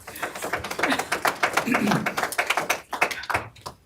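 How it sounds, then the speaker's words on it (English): A spattering of applause breaks out in a courtroom at a murder sentencing hearing, a brisk patter of scattered hand claps close by, continuing steadily for a few seconds. "A spattering of applause there, something that I've never heard in a courtroom, too."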